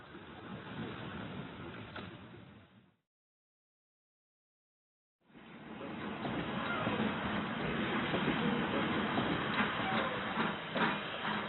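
A SNCB steam locomotive train runs at Saint-Ghislain, Belgium, in 1964, a steady rushing chuff and rumble that cuts out for a couple of seconds and then returns louder and continuous.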